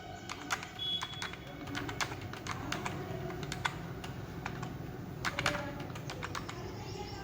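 Numbers typed on a computer keyboard into an Excel spreadsheet, faint and close, irregular clusters of soft key clicks over a low background hum.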